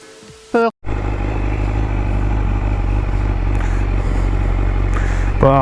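A BMW S1000RR HP4 sport motorcycle roars loud and close with a steady, high-pitched engine drone while being ridden, after a brief gap near the start, with the engine note rising again at the end.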